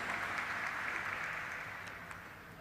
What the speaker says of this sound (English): Let's have a round of applause, everybody, for all our dignitaries